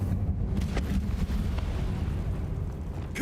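An Incendio fire spell cast in a Harry Potter video game bursts out as a rushing, roaring whoosh with a few sharp crackling pops, loud and close, with no voices.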